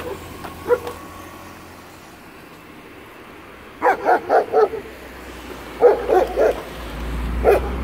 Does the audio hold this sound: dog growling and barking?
yes